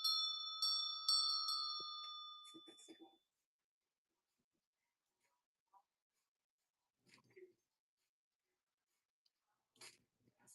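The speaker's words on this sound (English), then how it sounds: "It rings, sounds good." An antique bell at an auction rings out several times in bright, clear strikes that fade quickly, followed by near silence with a few faint thuds and soft voices.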